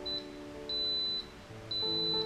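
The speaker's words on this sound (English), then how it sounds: "So it just finished cooking, you could hear it beeping, and now it's entered into the keep warm state." A Yedi electric pressure cooker beeps as cooking finishes: three clear electronic tones, one short and two longer, evenly spaced over a steady low hum, with no talking.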